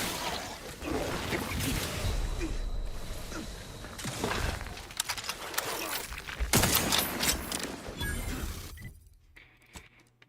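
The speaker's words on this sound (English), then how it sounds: "That's a turret. Turrets are dangerous." Turret firing in The Outer Worlds 2, rapid bursts of gunfire and crashing impacts that surge and pause over about nine seconds before cutting off, with characters talking amid it.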